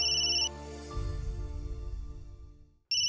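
A mobile phone ringtone chirps briefly, falls silent under a low rumbling stretch, then starts ringing again at the very end.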